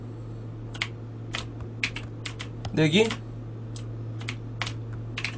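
Computer keyboard typing in scattered quick bursts of clicks, close and fairly soft, with a short spoken word in the middle and a low steady hum underneath.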